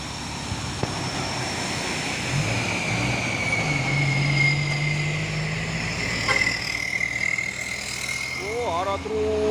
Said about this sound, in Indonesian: Truk trailer ini ya, membawa kontainer.